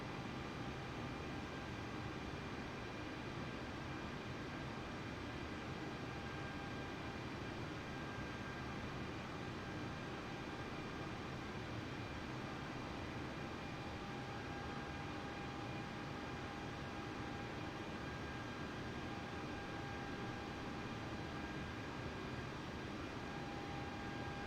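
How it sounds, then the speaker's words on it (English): Flight simulator aircraft on its takeoff run: a steady, dense engine roar with a constant whine holds evenly throughout, no voices over it. "I'm gonna go for a takeoff then"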